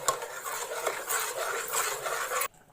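A spoon stirs a kayi kadabu mixture with a spoonful of homemade ghee, producing close, continuous scraping and clinking against the vessel for about two and a half seconds before stopping abruptly.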